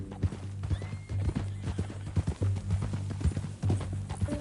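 Horse hooves clip-clop steadily with a neigh mixed in, from the video game Red Dead Redemption 2, loud and close with no talk over it.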